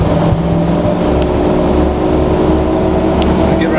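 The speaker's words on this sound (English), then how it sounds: "That's her running at 60 now. She's doing about 1500 RPM. And there is a wee bit of drone there off the tyres" A Ford F-250 truck cruises at 60 in overdrive around 1500 RPM, a loud steady engine rumble with a low droning tyre hum from the road, continuous and without talk.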